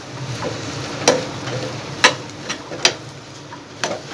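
Samosa vegetable filling sautés and roasts in a pan with a low sizzle, broken by a handful of sharp spatula scrapes and taps at irregular intervals.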